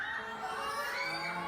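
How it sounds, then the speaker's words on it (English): A crowd screams and cheers at an SB19 event heard through a playing video, a dense, continuous roar of high-pitched voices that stays loud and even throughout. "No, the crowd's screaming."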